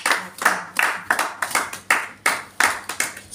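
Church congregation clapping in unison, a loud, close, rhythmic train of sharp claps in a steady beat, roughly three per second, with no talking over it.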